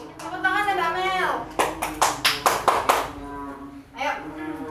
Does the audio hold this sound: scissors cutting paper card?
no